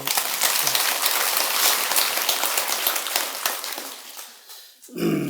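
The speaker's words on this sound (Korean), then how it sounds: "원칙이면 박수 한번 치라고." An audience at a Buddhist dharma talk, a temple service at Beomeosa, breaks into sustained, dense clapping that holds steady for several seconds, then thins out as a voice returns at the end.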